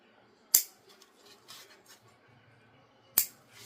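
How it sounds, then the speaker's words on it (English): Fabric snips handled during sewing give two sharp, close clicks a few seconds apart, with soft rustling between them and no talking. "I'll bring you some snips."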